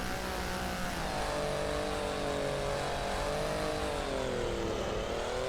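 A car engine in the indie game The Mechanic drones continuously with a rising and falling pitch as it revs, loud and close throughout, with no voices.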